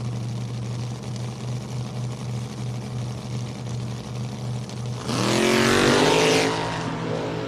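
Drag racing cars at a bracket race, including Doug Lindell's Corvette, idle at the starting line, then launch with a sudden loud roaring rise in engine pitch that fades after a second or so.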